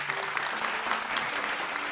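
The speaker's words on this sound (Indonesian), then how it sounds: "Kita berikan tepuk tangan sekali lagi." An audience at an Indonesian talk show claps together in a continuous, even burst of applause that lasts the whole moment.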